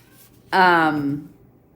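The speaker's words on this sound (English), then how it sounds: "Sophia keeps coming in and out meowing at me" A pet cat named Sophia lets out one clear, drawn-out meow, close by and fairly loud, with a falling pitch and nothing else around it.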